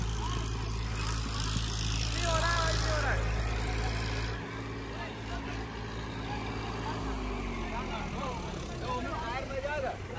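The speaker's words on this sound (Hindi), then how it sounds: "ट्रैक्टर बिल्कुल भी जान नहीं ले रहा है भाई" A tractor engine drones at a tractor tug-of-war contest between a Mahindra 575 and an Eicher 551. The low, steady rumble runs throughout beneath loud, excited talking and crowd noise.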